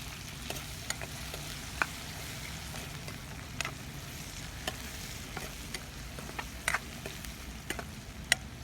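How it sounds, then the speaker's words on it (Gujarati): Onion added to golden garlic frying in hot oil: a steady sizzle with stirring clicks and scrapes throughout, moderately loud, no voices. "લસણ ગોલ્ડન થાય એટલે આપણે એમાં ડુંગળી ઉમેરી લેવાની"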